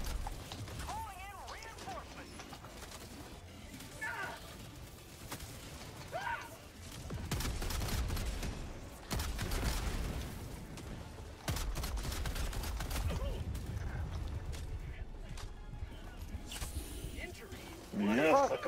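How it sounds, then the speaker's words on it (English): Turret gunfire in Helldivers 2 crackles in bursts of rapid shots, with heavier, denser volleys in the middle and at the end, while a player talks and exclaims over the action. "Oh, I died to a turret."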